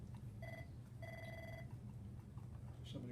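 A telephone rings faintly in a meeting room, two short electronic trills with a pause between them, over a low background hum and room noise, with no talk.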